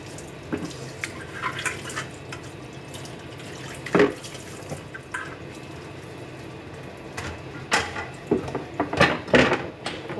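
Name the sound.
washing dishes at the sink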